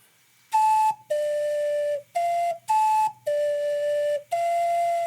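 An ocarina plays the opening phrase of a song: six clear, pure sustained notes in a slow, even rhythm, separated by short breaths, close and alone.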